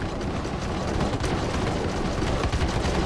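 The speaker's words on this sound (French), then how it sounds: "Là j'essaie de tirer dessus avec mes canon." Spaceship cannons firing at an enemy ship in the Star Citizen video game, a dense, continuous burst of rapid gunfire-like shots with clattering mechanical texture, loud and steady for the whole stretch, no talk.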